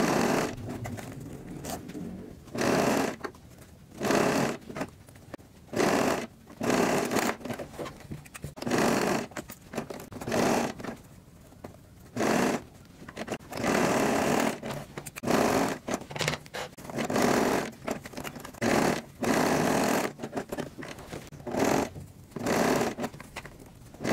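A sewing machine stitches a zipper seam on a small fabric pouch, running in repeated loud bursts of rapid mechanical whirring separated by brief pauses, close up with no talking.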